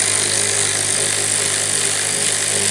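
A power tool runs steadily and loudly while a bolt is driven on a Suzuki LT-F300 King Quad ATV, a constant close whine with no breaks.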